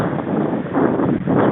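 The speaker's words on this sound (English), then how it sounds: "I love the sound of the wind in these trees." Steady broadband wind rushes through trees in an Iowa town park, with rough gusty surges and some microphone buffeting, loud and continuous without speech.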